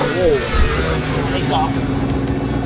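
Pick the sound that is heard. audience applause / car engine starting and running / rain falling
car engine starting and running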